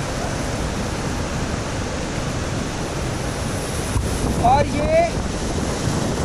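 Aharbal waterfall in Kashmir gives a steady, dense rush of falling water throughout, roughened by wind on the microphone, with a brief voice speaking near the end.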